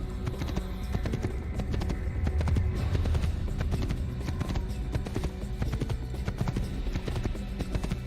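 Hooves clip-clop in a steady, fast rhythm as a horse gallops in Assassin's Creed, loud and close over a busy game soundscape.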